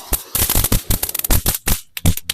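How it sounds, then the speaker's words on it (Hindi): A KitKat firecracker set off at night during Diwali crackles as a rapid, irregular string of sharp, loud, close pops and bangs, with brief gaps between bursts. "चलिए फटाक से हम लोग किटकट पटाखे में आग लगाते हैं।"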